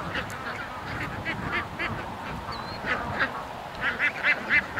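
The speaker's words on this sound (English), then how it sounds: "Oh, the geese are coming." Geese honk repeatedly at a distance, calls coming in scattered bursts that grow more frequent, over a soft steady background hiss.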